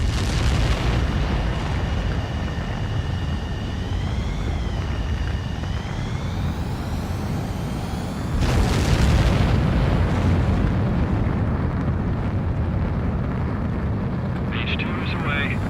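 A roaring jet engine builds during a takeoff launch in Ace Combat 7, with rising turbine whine and a louder surge of thrust partway through, accompanied by game music or effects.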